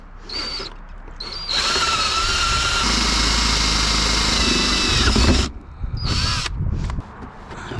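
A power drill with a 1 1/8 inch Forstner bit bores steadily and loudly for several seconds, with short starts and stops around it, while installing a refrigerator in a Cybertruck frunk.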